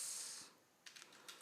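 Several quick key clicks on a computer keyboard, typed in short bursts in a quiet room after a soft hiss fades, fairly faint and close.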